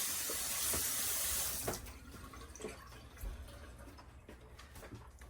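Olives for a Mediterranean chickpea salad rinsed under a running kitchen tap: a steady rush of water for the first couple of seconds, then softer splashing and scattered drips as it eases off, close and moderately quiet with no talk.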